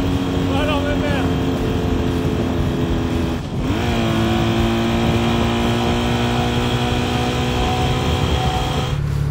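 A car engine spitting out carbon deposits drones steadily and loudly at close range, with a brief dip and shifting tone partway through.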